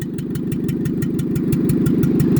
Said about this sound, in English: On 3, rev it up.